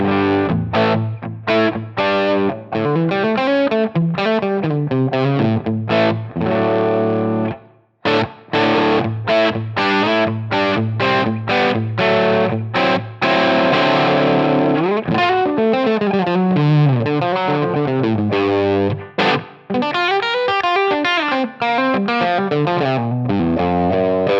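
Electric guitar played through a Line 6 Helix Brit Plexi Nrm amp model, a British-style crunchy tone: loud, continuous riffing and chords with brief pauses, alone without any talk.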